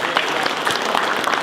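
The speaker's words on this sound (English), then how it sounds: "I would like first of all to give a big round of applause to the planning staff" Applause from an audience at a town hall meeting on redevelopment, a steady dense wash of clapping lasting the full moment with no talk over it.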